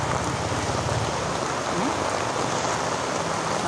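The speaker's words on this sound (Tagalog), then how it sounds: "Lakas ng ulan." Heavy rain pours down in a steady, dense hiss that fills the whole stretch without pause, loud and close, with a faint voice briefly in the background.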